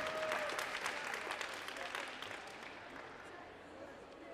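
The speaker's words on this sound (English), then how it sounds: "let's give one more round of applause for our Youth B World Championship" Audience applause for the Youth B speed climbing medalists at the 2022 IFSC Youth World Championships in Dallas, a broad, steady wash of clapping that slowly fades, with voices mixed in.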